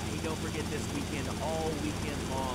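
A small private helicopter flying in the video game GTA: Vice City, a steady droning rotor hum throughout, with someone talking over it.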